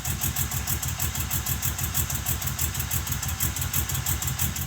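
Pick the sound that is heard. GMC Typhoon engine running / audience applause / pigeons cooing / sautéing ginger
GMC Typhoon engine running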